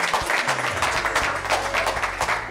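Audience applause at a World AIDS Day launch event, dense clapping from a gathered crowd, loud and continuous for a few seconds.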